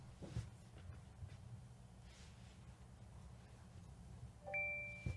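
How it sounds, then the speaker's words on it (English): A Google Pixel phone sounds a short electronic notification chime near the end as it begins reverse-charging Pixel Buds laid on its back, a faint clear tone rising over quiet room hiss. "did you hear that notification?"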